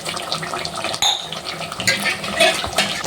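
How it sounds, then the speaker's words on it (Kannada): Rice cooking in a pot, heard as watery bubbling and splashing with occasional clinks of metal cookware, fairly loud and close with no talk. "ಈ ಕಡೆ ನಮ್ಮ ಅಕ್ಕ ಇದು ಅನ್ನ ಮಾಡತ್ತರು ನೋಡ್ರಿ ನೋಡಿ ಫ್ರೆಂಡ್ಸ್ ಹ್ಯಾಂಗೆ ಕುದ್ಲತ್ತದ ನೋಡ್ರಕ್ಕ"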